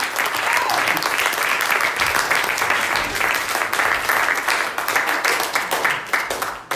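Congregation applauding at a church service, a dense, steady wash of many hands clapping close by that holds for the whole stretch and thins slightly at the end.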